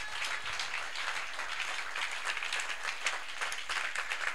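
A church congregation claps in sustained, dense applause, the sound moderately faint and steady throughout with no one speaking over it.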